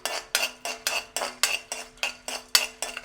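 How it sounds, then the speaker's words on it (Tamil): Whole cardamom pods dry-roasted in a pan while being stirred, giving a steady series of about eight metallic scraping strokes, evenly spaced and close, with no voices. "நாங்கள் ஏலக்காயையும் சாதுவாக வறுத்தெடுக்க வேணும்"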